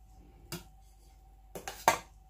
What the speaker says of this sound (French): Je mélange le sumbara, le gombo et le riz ensemble.